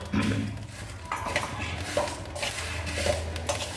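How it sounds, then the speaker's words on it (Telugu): Fenugreek, coriander seeds and bay leaf are dry roasted in a pan, with light rattling and scraping of seeds and utensil against the metal, close and continuous with no voices. "ఇప్పుడు ధనియాలు వేసేస్తాం అలానే బిర్యానీ ఆకు"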